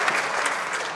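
Members of the House of Commons break into a short, dense round of applause in the chamber, clapping steadily without any voices standing out.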